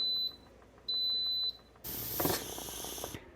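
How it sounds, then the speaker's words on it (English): Two steady electronic beeps from a kitchen timer, each lasting about half a second, followed by a loud hiss of steam or sizzling. "The timer just beeped on these, and they are ready to pull out."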